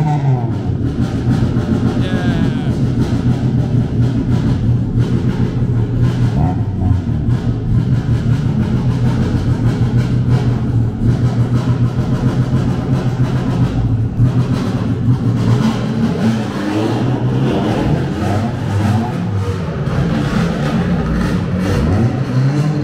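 Cars lap a race track day in Buenos Aires, including small Hondas and a black Subaru WRX, their engines roaring and revving continuously and loudly for over twenty seconds with no pauses.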